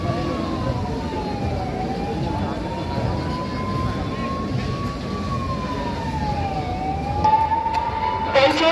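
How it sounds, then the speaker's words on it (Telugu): An ambulance siren wails in a slow, rising and falling tone over a crowded street during the Khairatabad Ganesh immersion procession, sounding steady and fairly near above a thick wash of crowd and traffic noise. "మనవి అంబులెన్స్ కి దారి ఇవ్వండి."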